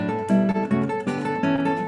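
Classical guitar plays a short passage by Tansman with a repeated pedal tone held on the high string over shifting harmony, a few close plucked notes ringing alone.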